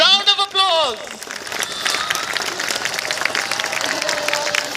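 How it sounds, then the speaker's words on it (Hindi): Sustained audience applause and crowd noise at a Guinness World Records announcement during a large spiritual event in Mirzapur, Uttar Pradesh, steady and dense after a brief spoken or sung voice at the start. "Round of applause."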